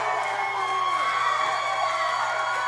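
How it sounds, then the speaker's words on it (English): Wrestling crowd cheering and chanting for Cash Flow at an OVW show, a dense sustained roar of many voices at a steady level, slightly distant and filling the whole moment. "you hear the crowd here. They're calling for it"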